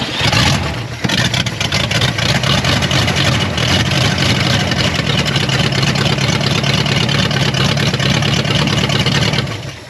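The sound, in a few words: 1962 Cadillac Coupe Deville engine running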